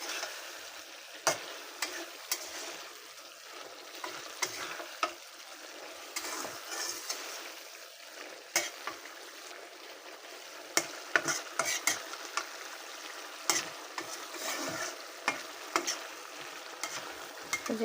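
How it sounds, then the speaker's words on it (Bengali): Mola fish chorchori is stirred in a frying pan, a gentle sizzle running underneath as a utensil scrapes and taps the pan in irregular strokes, quiet and close with no talking. "হালকা একটু নেড়ে দেব।"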